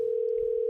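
A steady, unbroken telephone tone holds at one pitch for under a second, loud and close, as a call waits to be answered, with no talk over it.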